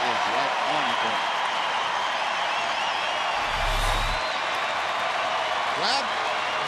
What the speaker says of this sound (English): Crowd getting behind Joaquin Soria and the Rangers.